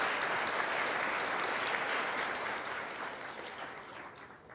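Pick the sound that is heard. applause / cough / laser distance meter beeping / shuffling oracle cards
applause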